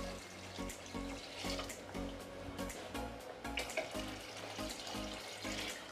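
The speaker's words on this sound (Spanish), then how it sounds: "Pasados esos 2 minutos, le vamos a echar el agua." Water poured from a tap into a cooking pot for a chickpea and prawn stew, a steady splashing stream with faint kitchen clatter, quiet and close.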